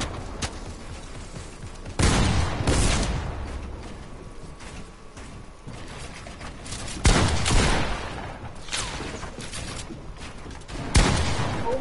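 Gunfire in a multiplayer shooter video game comes in three sharp bursts spaced several seconds apart, each a loud crack followed by a short decaying rumble over quieter ambient game noise.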